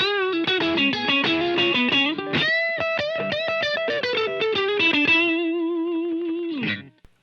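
An electric guitar through a Santa Ana Overdrive pedal plays a quick run of distorted notes and chords, then holds a final sustained note that fades out.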